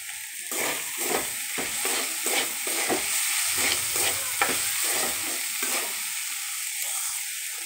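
Vegetables fry in a pan with onion and green chili while being stirred, a loud sizzle broken by a rapid run of scraping, clattering strokes, close up and with no talk.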